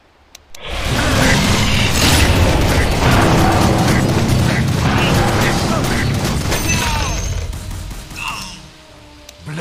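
Sustained loud gunfire and crashing from a sniper fight in the Dota 2 video game roars over several seconds, dense and close, with game voice lines mixed in.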